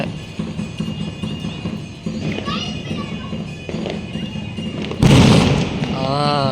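Crowd and children's voices with music in the background at a New Year's night celebration, then a sudden loud firecracker bang near the end followed by crackling and whistling.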